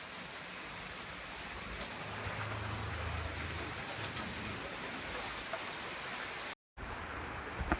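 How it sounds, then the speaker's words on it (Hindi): Heavy early-morning rain pouring steadily, a dense, even hiss of drops on surfaces with a low rumble underneath, continuous and fairly close, cutting out briefly near the end before resuming. "इतनी तेज बारिश हो रही है।"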